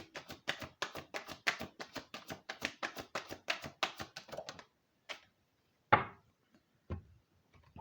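Oracle cards are shuffled by hand in a quick run of soft, rhythmic riffling taps close to the listener, then a few separate louder card taps after a pause.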